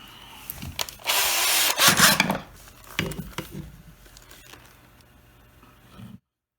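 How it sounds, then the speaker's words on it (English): A power drill with a slightly smaller bit bores a pilot hole into wood for a screw, a loud whirring burst lasting about a second, then fainter clatter and short handling knocks before stopping. "And then I'm going to drill another pilot hole for this screw,"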